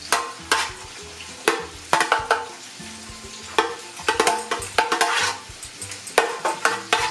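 Olive oil sizzles in a pan while a utensil clacks and scrapes against it in irregular, sharp bursts over a soft frying hiss, close and fairly loud, with no talking.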